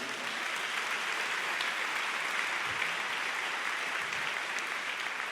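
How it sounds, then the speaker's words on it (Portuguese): A church congregation claps steadily for several seconds, a dense even wash of applause filling the room with no voices rising above it. "Aplauda o Senhor."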